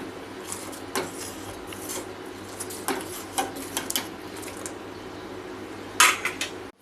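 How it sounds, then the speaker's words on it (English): A spoon stirs a home-made immunity drink of crushed black pepper and other ingredients in a pot, giving sparse metallic scrapes and clinks spaced out over a quiet background hiss, close by with no talking. "Now mix it well."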